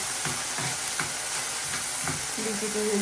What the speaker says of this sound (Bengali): এখন বসায় দিচ্ছি একটু তেল দিয়ে হলুদ আর লবণ দিয়ে